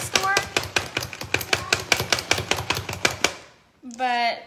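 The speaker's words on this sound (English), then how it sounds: "dices your onions super small, and it's very fast" An onion chopper dices onions quickly, producing a rapid series of crisp, close chopping clacks in a steady rhythm that stops shortly before a voice begins speaking.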